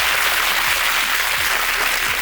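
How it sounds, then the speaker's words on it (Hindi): Audience applause for a group of schoolchildren at a girls' school session, a dense, steady wash of many hands clapping, loud and continuous. "बजाइए तालियां सारे बच्चों के लिए"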